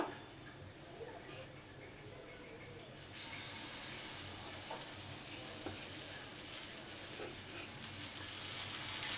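Dosa batter sizzling on a hot pan, a steady frying hiss that swells louder about three seconds in and keeps going, with faint ticks and clinks of cookware in the background.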